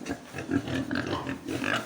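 Pigs and sows grunt on a farm, close and fairly loud, with a continuous run of short overlapping grunts and snuffles.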